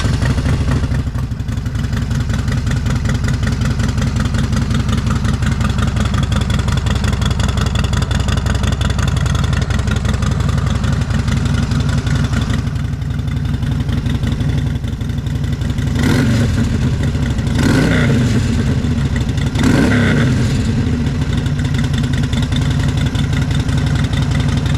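A Harley-Davidson XL883L Sportster with a Vance & Hines exhaust idles close by with a loud, steady, deep rumble that runs throughout, then gives a few short throttle blips near the end.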